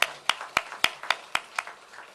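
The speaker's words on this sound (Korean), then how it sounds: "박수하겠습니다." Slow, evenly spaced handclaps during a Sunday church service, about eight sharp claps in a steady rhythm, fairly close and alone without talk.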